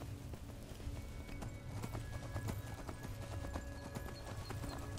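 Horse hooves clip-clopping at a steady gallop in Skyrim, a continuous rhythmic beat at moderate distance under the game's ambient sound, with no talk.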